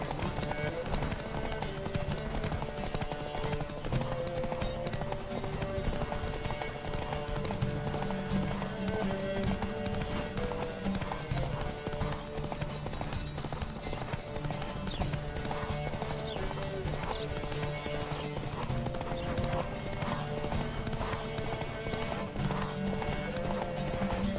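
Horses galloping in the video game Witcher 3, a continuous rhythmic clatter of hooves with an occasional whinny, set under steady game music with no pause.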